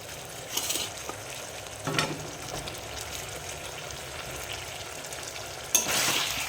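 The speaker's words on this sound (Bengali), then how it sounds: "একটু ভেজে নেবো মশলার সাথে আলুগুলো দিয়ে দেবো এখন" Potatoes frying with spices in a pan give a constant soft sizzle, with a few louder stirring scrapes and a sharper burst of sizzling near the end, heard alone without talk.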